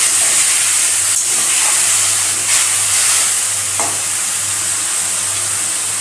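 Water splashes into a pan of frying potatoes and small fish, setting off a loud, continuous sizzling hiss with a few sharper bursts, close and with no talk.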